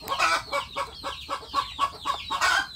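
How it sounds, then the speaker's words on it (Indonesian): Village hens clucking at a brooding and laying spot, a steady run of close, loud, rhythmic clucks and cackles from several birds, with no talk over them. "Ini banyak sekali ayam yang sedang mengerami"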